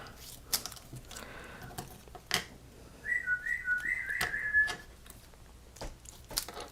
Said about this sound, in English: I don't know if you guys can hear that bird